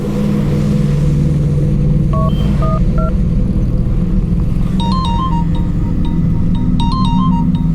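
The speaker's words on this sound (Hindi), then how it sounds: "देखना किसका फोन है" A phone rings with short electronic tone bursts repeating in a pattern over a loud, constant engine-like rumble.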